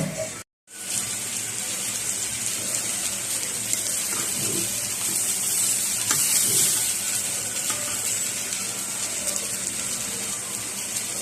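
Vegetables and rice for a vegetable pulao frying in a pan, a continuous close hiss and sizzle with faint clinks, preceded by a brief silent gap near the start.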